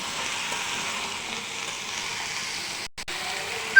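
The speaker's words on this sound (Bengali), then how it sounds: "এখন এখানে দিয়ে দিব কচু আর কুমড়া। দিয়ে ভালোভাবে একটু ভেজে নেব।" Taro and pumpkin pieces fry in a pan, producing a steady, even sizzle that drops out briefly near the end before resuming.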